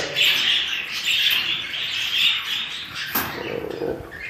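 Budgerigars chirp and warble in a steady, busy chatter nearby, with a sharp click partway through and a rustle after it.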